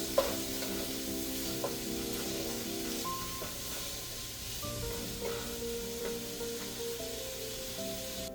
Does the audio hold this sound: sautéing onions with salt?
yes